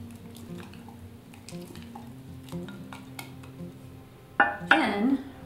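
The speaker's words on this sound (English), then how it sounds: "let's just go ahead and stir up the starter a little bit." A utensil scrapes and clinks in a glass jar while stirring sourdough starter, making quiet taps spread over several seconds and then a louder burst of scraping near the end.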